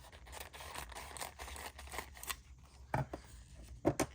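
Scissors snip excess paper napkin away at close range, a few quiet crisp cuts spread over the clip with two sharper snips near the end, with no talking.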